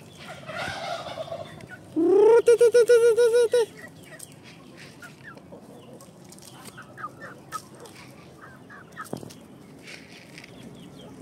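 Native chickens and Sasso hens mingle with a rooster, giving a brief loud burst of rapid, gobbling calls near the start, then scattered soft clucks and small rustles in a quiet yard.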